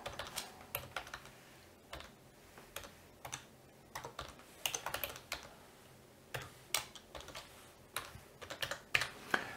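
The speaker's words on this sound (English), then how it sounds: "I'm going to type in here now a temporary" Fast, uneven typing on a computer keyboard, with dense clusters of light plastic key clicks and occasional louder keystrokes running nonstop with no voices.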